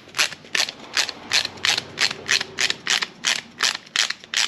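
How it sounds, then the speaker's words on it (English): A ratchet with a 10 mm socket backs factory studs out of a car hood, giving a steady run of about a dozen sharp, close clicking bursts in an even rhythm with no voices. "grab a 10 mil ratchet with a, or a 10 mil socket with a ratchet, and pull out these factory studs"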